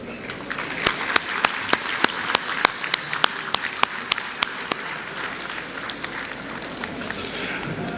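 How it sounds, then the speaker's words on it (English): A conference audience at an inaugural session on mediation breaks into applause, with several loud, distinct claps standing out rhythmically over a continuous wash of crowd clapping. "Please, with a round of applause."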